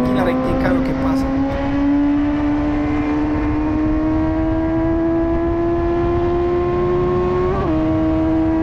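A Suzuki GSX-S 750 motorcycle accelerating hard along a straight, its engine note climbing steadily in pitch through a long pull, with a brief shift near the end.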